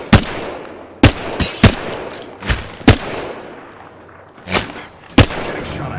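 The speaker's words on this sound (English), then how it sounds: "Getting shot at." Gunfire rings out in the Apex Legends battle royale game: about eight sharp, loud shots arrive in irregular bursts with short gaps between them, close by and with little else around them.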